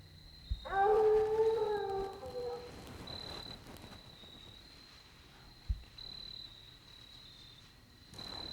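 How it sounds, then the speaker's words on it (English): Several dogs howl together in long, wavering tones from a distance, over a steady high insect drone and faint outdoor rustling, heard from a Missouri deer hunting spot. "And dogs are still running around up there."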